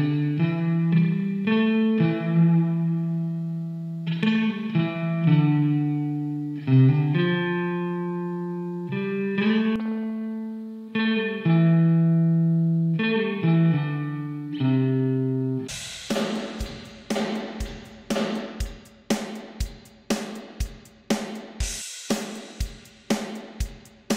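Devil Spring Reverb plugin on Mac and Windows shaping a musical part: sustained, reverberant melodic tones for about fifteen seconds, then a loud run of rhythmic percussive hits with a springy wash, with no talking.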